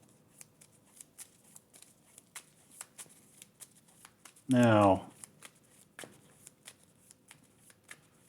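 Cards from a Marvel Champions deck being shuffled by hand, a run of soft, rhythmic riffles and taps close by, interrupted by a short spoken word midway.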